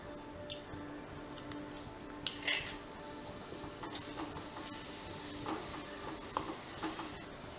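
Dried vathal frying in oil for tempering, a soft continuous sizzle with faint clinks of a utensil against the pan, quiet and close.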